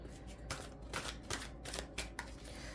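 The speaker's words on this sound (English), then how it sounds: "I'm just giving it a final shuffle here" A deck of tarot cards is shuffled continuously at close range, with repeated rhythmic riffles and flicks of the cards about every half second and a faint steady background hum.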